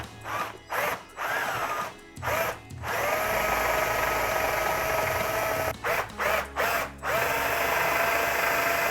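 A power drill whirs steadily, opening holes out to 6mm with standard drill bits, stopping and restarting in short bursts before running for longer stretches, loud and close.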